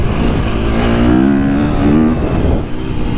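A KTM 350 dirt bike engine revs hard and close, its pitch climbing and dipping continuously before easing off near the end.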